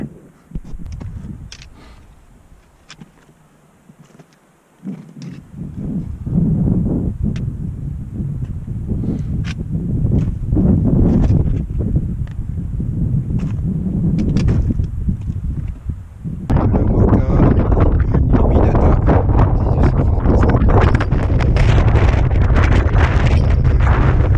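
Strong gusty wind buffeting the microphone on the GR20 mountain trail in northern Corsica, roaring loudly in surges after a quieter start and intensifying further toward the end, with no voices.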